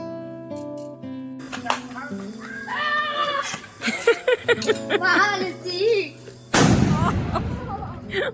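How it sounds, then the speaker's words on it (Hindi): Chattering voices and bright tonal sounds fill the scene, then a single loud firecracker bang bursts out near the end, followed by crackling. "सब मिलकर पटाखे जला रहे थे।"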